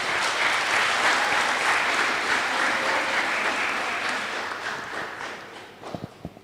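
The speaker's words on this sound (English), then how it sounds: "I would like to invite all of you to give a round of applause to our speaker" Loud, sustained audience applause for a speaker at a professorial lecture at ISTAC-IIUM in Kuala Lumpur, a dense roar of clapping that gradually fades, leaving a few scattered sharp claps at the end.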